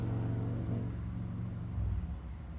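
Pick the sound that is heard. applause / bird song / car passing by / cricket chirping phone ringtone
car passing by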